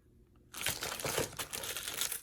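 A container of glass glitter handled up close, a sudden crinkling, crunching rustle that starts after a brief quiet pause and continues steadily with small gritty shakes.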